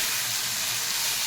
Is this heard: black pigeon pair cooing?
no